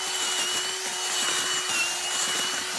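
A powered auger drills a planting hole in garden soil, a steady close mechanical whine and grinding drone held without a break.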